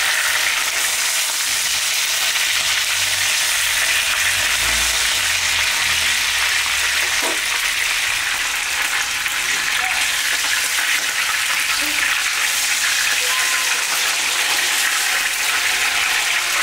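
Fish, including red belly, fry in a pan of hot oil with a dense, steady sizzle and crackle, close and continuous, with no talking.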